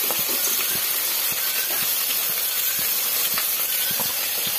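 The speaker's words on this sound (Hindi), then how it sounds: "भिंडी को अच्छे से फ्राई कर लेंगे।" Okra (bhindi) fries in oil in a kadai, giving a steady close sizzle and hiss with faint crackles throughout, no voices.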